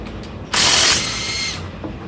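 A brief, close ratcheting burst from a wrench working a 14 mm brake caliper bolt on a Nissan Rogue, then a softer mechanical whir that fades.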